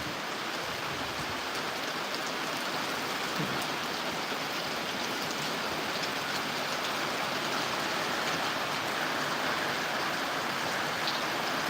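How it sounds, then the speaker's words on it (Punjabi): Heavy, steady rain pours down over Punjab village farmland in a dense, unbroken hiss, loud and close, with no voices. "ਦੱਸੋ ਕਿੱਥੇ ਕਿੱਥੇ ਅੱਜ ਇਹ ਵਾਲਾ ਮੀਂਹ ਪੈ ਰਿਹਾ"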